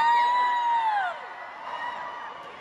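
A concert crowd at a live show in Dubai cheers and whoops loudly, with high shrill whoops rising over the roar before it eases slightly and carries on steadily.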